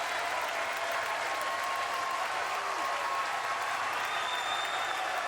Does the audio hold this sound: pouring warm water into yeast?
no